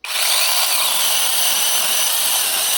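A small LEADER cordless mini saw whines steadily at high pitch, cutting continuously without pause for a few seconds, loud and close.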